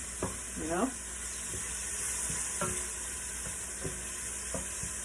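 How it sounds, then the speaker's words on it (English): Pumpkin pieces cooking down in a pan for vegan pumpkin soup, a steady soft sizzle with a few scraping stirs and light clinks of a utensil against the pan, close by. "I'm just going to break it up and put it in there and let it cook down for a bit"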